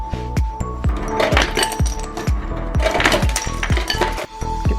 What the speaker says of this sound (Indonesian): Kita ambil es batu dulu.